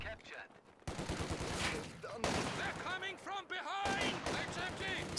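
Machine gun fire in Company of Heroes 2, a 1v1 match between Soviet and German armies: loud rattling bursts and scattered gunshots mixed with battlefield noise and unit chatter, with a commentator's voice running over the fighting.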